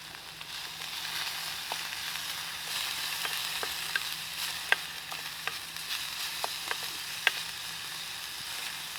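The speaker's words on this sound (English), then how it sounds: "There's the sizzle sizzle that I always like to hear." Steady sizzling of pork frying in a pan with a little ghee, with scattered sharp pops and crackles over the constant hiss.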